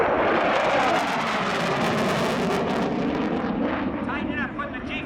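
A Navy jet roars steadily and loudly overhead during a tactical flight demonstration at an airshow, its engine throttling back slightly toward the end, with a commentator talking over it.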